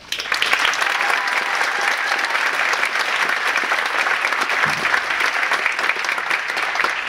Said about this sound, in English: Let's have a big round of applause for Adam Kempa.